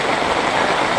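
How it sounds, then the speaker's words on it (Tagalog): Heavy typhoon rain drums steadily on an umbrella during flooding in the Philippines, a loud, dense, close hiss of countless drops with no pauses and no voices. "Ayan, naririnig niyo yung ulan."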